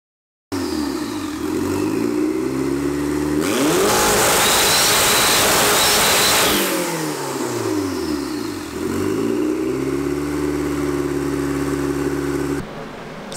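A quad turbo Honda Civic engine revs hard in repeated climbing and falling sweeps, with a rough, loud blast in the middle before it settles back into rising revs and cuts off abruptly.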